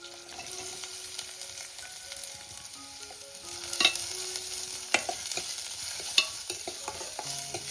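Onions sautéing in a pan for a shrimp curry give a continuous sizzle, with repeated scraping and clinking from stirring that grows louder in the second half.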